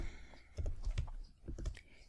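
A computer keyboard being typed on while writing code, a handful of close, soft key clicks in a short burst with no talking.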